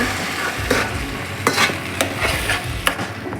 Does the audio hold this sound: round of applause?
no